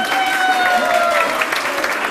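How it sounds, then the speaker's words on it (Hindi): Studio audience on a game show claps in a dense, continuous wash of applause, moderately loud, with voices faintly mixed in beneath. "तालियां तो बजाएं।"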